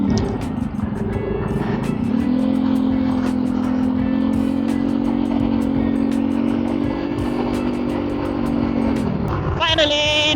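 Steady, loud road noise on a busy highway in Nueva Ecija with many trucks, with a sustained engine drone under constant rushing traffic during a motorcycle road trip.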